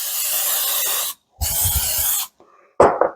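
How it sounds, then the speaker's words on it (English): Cooking spray hissing onto asparagus before it goes on the grill, two long bursts of loud, close aerosol spray separated by a short pause, followed by a brief rustle and clatter. "I'm going to hit this with the cooking spray"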